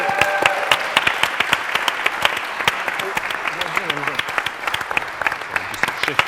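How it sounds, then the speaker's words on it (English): An audience applauds the Eastside Brass Quintet with scattered, individually distinct claps that thin out over time, fairly close, with a few voices talking underneath. "A huge round of applause."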